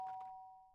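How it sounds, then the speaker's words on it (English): A doorbell chime in the video game Danganronpa, a single faint ding with a ringing tone that slowly decays over under a second. "did I hear the doorbell?"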